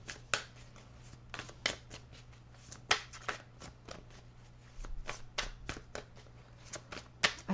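Tarot cards being shuffled by hand, close and quiet, in repeated quick riffling bursts and soft slaps with short pauses between them, with a faint steady hum underneath.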